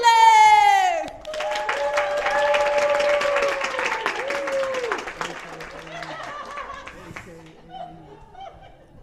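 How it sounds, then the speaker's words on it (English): Audience at a women's poetry slam breaking into applause and some laughter after a tonal opening note, with a voice speaking over the clapping as it fades. "Give a warm round of applause for Millie!"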